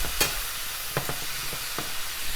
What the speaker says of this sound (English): Give that a little stir around just to get the flavors going